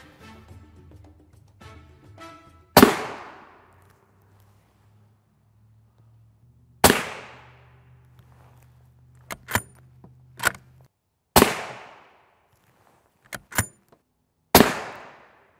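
.300 Winchester Magnum rifle shots strike a ceramic NIJ Level IV armor plate: four sharp, loud cracks spaced a few seconds apart, with lighter metallic clinks and handling noises between them and a low hum early on.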